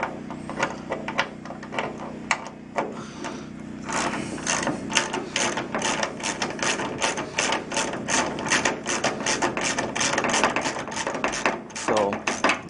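A ratchet wrench clicks rapidly and steadily up close as a bolt is backed out of the fender on a 1974 Chevy Nova, a dense mechanical ratcheting that runs almost continuously for several seconds.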